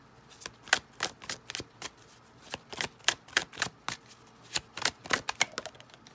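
Tarot cards are shuffled in a quick, uneven series of crisp riffling snaps and slaps, close and fairly quiet, with no talking.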